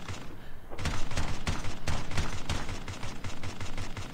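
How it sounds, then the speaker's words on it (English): Rapid, steady bursts of automatic gunfire ring out in a Call of Duty Mobile battle royale match, opening after a short quiet moment and then pounding on loud and rhythmic until the end. "There was someone sniping us from the side"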